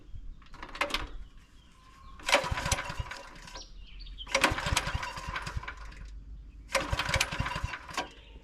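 Small pull-start engine sputters in repeated short bursts, each revving for about a second or so before cutting out, separated by near-silent gaps as someone tries to get it running.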